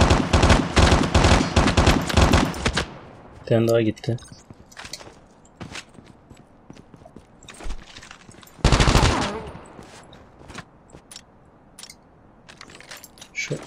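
Rapid automatic gunfire from a weapon in a multiplayer shooter video game, loud bursts at the start and again midway, with scattered single shots, footsteps and someone talking in Turkish.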